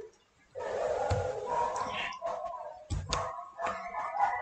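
Dogs bark and yip in quick, overlapping bursts, fairly close and moderately loud, with whimpering tones between the barks.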